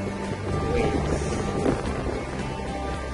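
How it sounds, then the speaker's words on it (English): Steady wind rushing across the open deck of a cruise ship at sea on a stormy day, a continuous broadband roar with low buffeting against the microphone and no pauses. "It's kind of windy at the moment."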